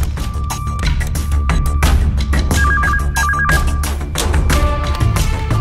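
A telephone rings repeatedly in a police station in Araku, its electronic warbling tone sitting under a loud, busy background music score.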